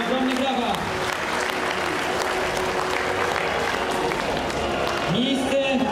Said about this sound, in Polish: Ogromny brawa.